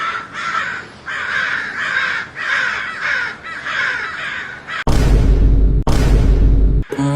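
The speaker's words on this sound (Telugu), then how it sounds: "అమ్మా ఇన్ని కాకులు వచ్చినాయిందిరా" A large flock of crows caws steadily and loudly for several seconds, then sudden heavy bursts of broadband noise cut in and take over.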